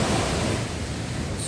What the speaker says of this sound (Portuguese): esse som aqui é muito bom. Som do mar.